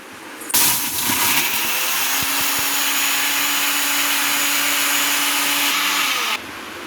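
A kitchen mixer grinder whirs loudly and steadily, grinding roasted spice masala into a fine powder for homemade coriander thokku. It starts abruptly, holds a constant high-pitched motor roar for about six seconds, then cuts off.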